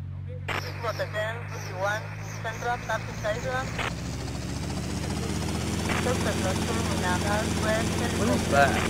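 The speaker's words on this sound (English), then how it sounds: "There's a helicopter!" A helicopter in the video game GTA Vice City, its rotor chopping steadily and growing louder, while a player talks excitedly over it.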